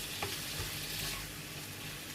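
Chicken pieces cook in a pan for a chicken pie, a faint, soft sizzle with a brief stir or scrape near the start, quiet and steady with no talking.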